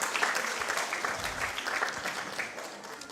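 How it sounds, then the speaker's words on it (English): An audience at a Rotaract Club and credit union event in Grenada claps steadily, a dense, even wash of applause that continues without a break. "give yourselves a lusty round of applause for coming out today"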